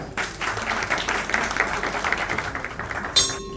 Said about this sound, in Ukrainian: оплески йому